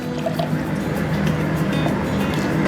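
Three cups of water, 750 ml, are poured into a vessel for homemade nannari syrup, giving a close, continuous splashing fill with a faint gurgle and no talking.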